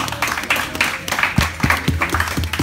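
A crowd clapping in an uneven, sustained burst of applause at a combat-sports fight event in Lima, Peru, rising and falling slightly over a couple of seconds.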